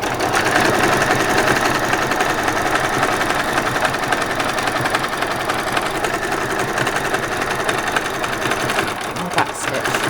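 Continuous, close whirring of a sewing machine back stitching party dress fabric, running steadily at an even speed for the full stretch with only a small bump near the end.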